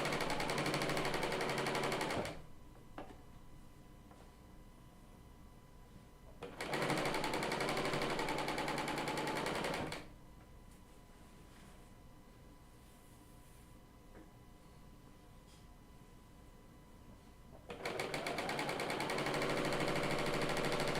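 Bernina L890 serger sewing machine running in three loud, steady bursts of rapid stitching, separated by quiet pauses with faint handling sounds.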